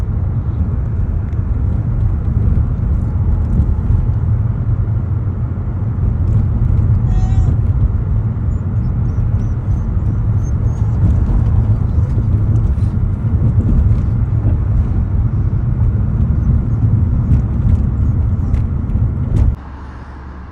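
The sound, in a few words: car driving on a main road in Flint, Michigan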